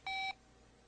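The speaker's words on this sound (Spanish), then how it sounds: "Parece un celular ordinario, ¿cierto? Bueno, ábrelo y oprime el 3." A cartoon flip cell phone gives one short, clean electronic keypad beep when its number 3 button is pressed, bright and steady, then quiet.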